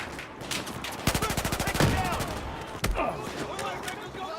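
Rapid automatic gunfire in the Battlefield 4 Shanghai campaign, loud bursts of fast repeated shots with a few single cracks, mixed under a talking voice.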